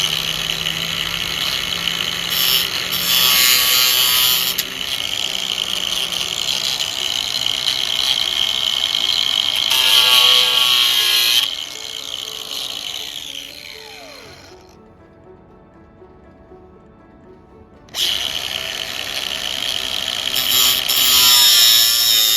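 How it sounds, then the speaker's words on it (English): An angle grinder fitted with a metal cutting blade cuts a sunroom roof cover, a loud, steady high-pitched whine that dips as the cut eases, falls silent briefly, then starts up again. "So that's what I'm doing now with a grinder and a metal cutting blade."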